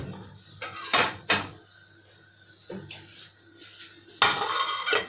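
Chunks of cut eggplant dropped into a bowl for an eggplant and kofta gratin, several separate clattering knocks and scrapes against the dish with quiet gaps between them, and faint room noise underneath.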